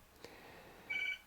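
A telephone gives one short, faint electronic ring tone, heard alone in a quiet room.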